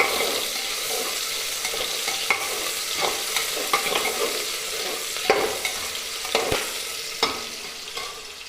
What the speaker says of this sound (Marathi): कांदा छान लालसर भाजला पाहिजे.